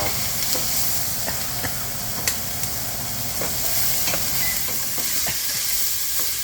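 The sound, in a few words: onions and andouille sausage sizzling in a pan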